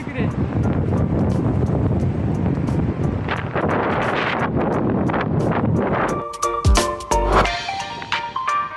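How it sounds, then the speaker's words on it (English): Strong wind in New York roars and buffets the microphone in a steady, rumbling rush for several seconds, then eases as a voice speaks briefly near the end. "New York sometimes gets so windy."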